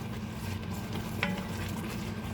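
Metal spoon stirring and scraping the bottom of a pot of simmering lasagna meat sauce, a steady low gritty scrape with a gentle bubbling sizzle underneath, close and continuous.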